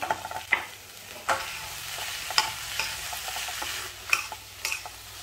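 Paneer stirred into sizzling tomato masala with coriander, cumin powder and garam masala in a pan, a quiet sizzle broken by several spatula scrapes and clinks against the pan, with no talking.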